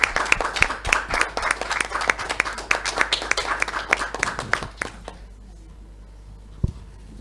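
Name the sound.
audience applause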